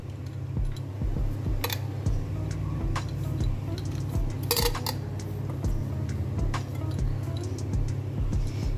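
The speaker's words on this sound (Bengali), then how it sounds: "আমি শিমগুলোকে নিয়ে নিচ্ছি একটা মিক্সিং জারে" Boiled beans are spooned into a mixing jar, with a steady run of sharp clinks and taps from a utensil against the jar over a constant low kitchen hum.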